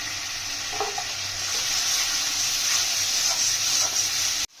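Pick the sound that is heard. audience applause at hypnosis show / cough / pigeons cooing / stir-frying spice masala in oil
stir-frying spice masala in oil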